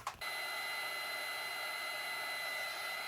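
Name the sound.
drying mica stain on embossed paper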